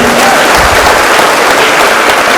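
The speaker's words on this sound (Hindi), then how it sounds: "एक बार दिल खोल के जोरदार तालियां" Loud, steady applause from a large audience at a network marketing seminar, dense clapping filling the whole stretch without a break.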